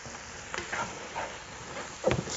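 A spoon stirs flour into softened celery and other vegetables in a pot for crab chowder, giving a few soft scraping sweeps over a faint, low sizzle, close and quiet.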